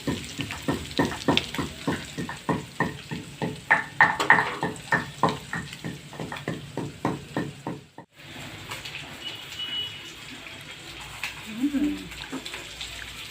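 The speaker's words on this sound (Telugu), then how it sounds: "తాలింపు" Whole spices tempering in hot oil in a home kitchen pan, crackling and popping in rapid bursts that settle into a steady softer sizzle, with faint voices nearby.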